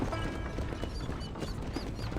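Hooves clip-clop as a horse trots along in the Western video game Red Dead Redemption, a steady rhythmic clatter of hoof falls heard up close under a low, busy ambient rumble.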